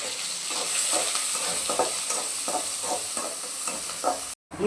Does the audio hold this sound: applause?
no